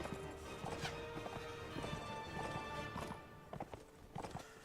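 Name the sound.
horse hooves clip-clopping in video game Mount & Blade: Warband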